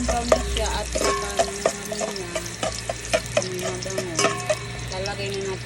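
Garlic frying in a pan while cooking pinakbet, browning to golden, gives a soft continuous sizzle under repeated light stirring clinks and scrapes, close and moderately loud.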